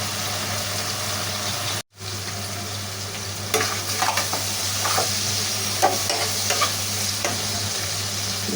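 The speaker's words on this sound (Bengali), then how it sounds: "এবার নাড়াচাড়া করে মাছটা একটু ভাজবো।" Fish fries and is stirred in a pan, a continuous close sizzle broken by a sudden brief dropout, then scraping stir strokes crackle irregularly over the hiss.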